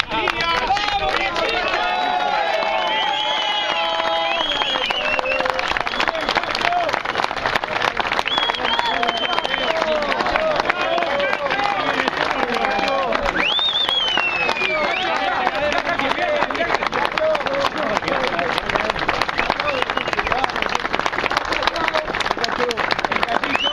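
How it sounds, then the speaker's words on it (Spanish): Crowd applause and cheering for the winner of a fishing contest at Balneario La Paloma, sustained and dense with clapping and babbling voices throughout. "aplauso al gran ganador de la guía"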